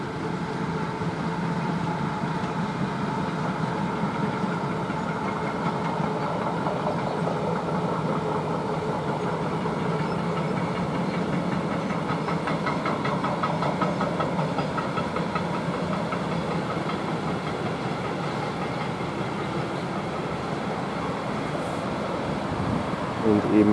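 Two Railpool freight locomotives rumble past heading south on the Brenner line, a steady, continuous engine drone with rhythmic rail clatter lasting throughout, fairly loud and close with no pauses.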